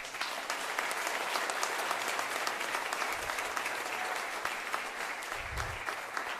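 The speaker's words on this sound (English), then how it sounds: "Okay, so a big round of applause for that." An audience at a high school college signing event applauds continuously, a dense and fairly loud patter of many hands that keeps an even level throughout without any voices over it.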